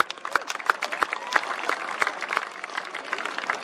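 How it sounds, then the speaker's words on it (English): Scattered, fairly sparse clapping from a modest crowd at a country football grand final presentation for the Willunga Football Club, individual claps distinct and uneven over an outdoor background. "So give uh, Willunga Football Club a, a round of applause"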